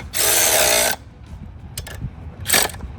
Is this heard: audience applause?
no